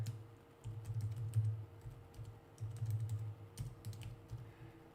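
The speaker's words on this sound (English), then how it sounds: "My typing is abysmal right now." Rapid, irregular clicks of keys being typed on a computer keyboard during a live day-trading session, close and fairly quiet, with no voices.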